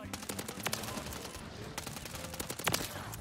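Suppressed Striker submachine gun in Call of Duty MW3, a compact Uzi-like weapon, fired in short muffled bursts over steady game noise, with a sharper pop near the end.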